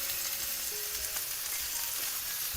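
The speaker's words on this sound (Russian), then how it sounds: "Утиная грудка уже прекрасно обжарилась. Все это переворачиваем еще раз." Duck breast with vegetables sizzles in a wok, a steady hissing fry at low level throughout, with no talk.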